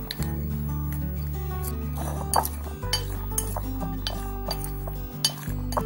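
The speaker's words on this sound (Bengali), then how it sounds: "মশলা এটাকে আমি এবার একসঙ্গে মাখিয়ে নেব" Boiled potatoes mashed and mixed by hand with salt, spices and chopped beetroot in a bowl for aloo kabli, giving steady soft squishing with scattered clinks against the bowl beneath a constant low hum.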